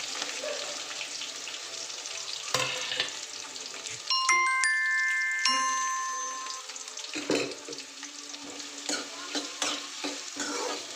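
Onions frying in a pan for sige soppu palya, a leafy greens stir-fry, give a steady close sizzle with scraping and stirring of the pan, plus a few brief metallic rings, and no talking.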